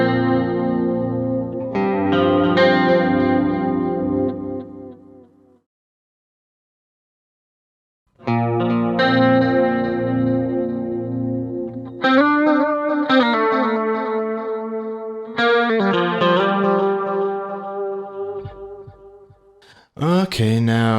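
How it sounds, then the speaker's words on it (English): Electric guitar played through a Boss GT-1000 with master delay on, sustained chords and note runs trailing faint repeats, loud and close, with a silent gap midway before playing resumes. "Okay, now let's turn on the delay. We'll be using only the master delay"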